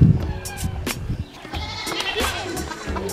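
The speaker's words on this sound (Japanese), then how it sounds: "ヤギ。" A goat bleats a few times in short wavering cries, fairly close, in a riverside village in Laos, with outdoor background noise and a faint voice.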